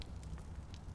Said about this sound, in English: Throwing a grenade. Incendiary.